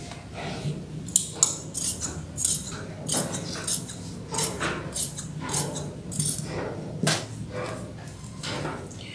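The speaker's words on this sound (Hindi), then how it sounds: "इस तरह से हम मगजी की कटिंग करते हैं" Scissors cut fabric into a triangle-folded strip for frock piping: a run of crisp, close snips and blade clicks in an irregular rhythm, with no one speaking.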